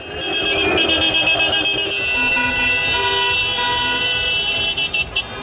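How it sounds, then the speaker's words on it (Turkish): Car horns honk in traffic as a Turkish horn-language signal, several tonal blasts overlapping loudly and then breaking into short repeated bursts toward the end, with road noise beneath. "Kısa aralıklarla sık sık basılır kornaya."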